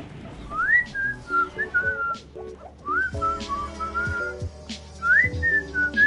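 Someone whistles a bright tune in short phrases that swoop upward and then settle, repeating in clear bursts over a quiet background.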